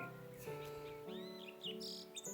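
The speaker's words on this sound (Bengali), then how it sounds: "এখানে গাছপালার মধ্যে পাখিদের আওয়াজ, একটা শান্ত পরিবেশ" Birds chirping among the trees of a quiet Houston park on a winter morning, several clear tweets and short calls close by against soft background noise.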